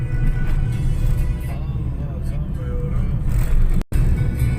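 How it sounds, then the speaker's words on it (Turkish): Road traffic in Malatya on the last day of Ramadan, a continuous wash of car engines and tyre noise with passing vehicles and a brief engine rev, heard close from inside a vehicle, with someone talking over it. "size son günün, Ramazan ayının son gününün trafiğini çekeyim"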